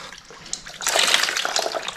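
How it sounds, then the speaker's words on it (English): Excess water dumped out of a paper brick mold while pressing junk mail and newspaper into fire logs: a short quiet trickle, then a loud rushing splash of water that runs steadily for about a second. "dump your excess water out."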